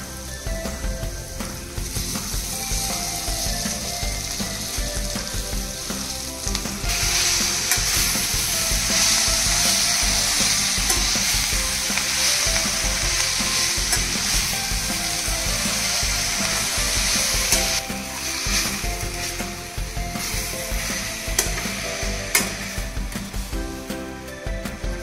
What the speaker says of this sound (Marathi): तुम्ही बघू शकता मेथी चांगली फ्राय झाली आहे आपली।